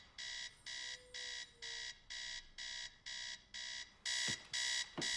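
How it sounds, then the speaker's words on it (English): An alarm clock in a film scene rings in an even series of bright, rapid electronic beep bursts, about two per second, growing louder near the end, with no voices. "We hear an alarm."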